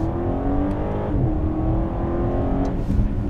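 A 2017 Alpina B7 xDrive luxury saloon on winter tyres pulls hard at full throttle from the top of second gear, its engine roaring loud and steady with a rising drone, heard from inside the cabin.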